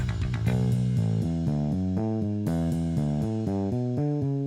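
Warm, rounded electric bass notes from a Fender Jazz Bass neck pickup, played in a steady melodic line, deep and smooth with a soft attack, no voices.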